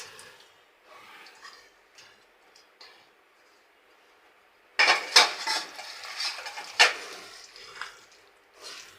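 Bacha fish with chillies and onions goes into hot oil in a pan: soft utensil clinks and stirring first, then a loud, sudden burst of sizzling halfway through with stirring and scraping.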